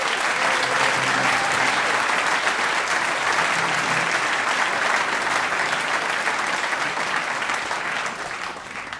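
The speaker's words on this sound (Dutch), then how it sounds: "Geef hem een hartelijk applaus." An audience at a jazz club applauds a quartet musician, dense sustained clapping that carries evenly for several seconds, then thins slightly at the end.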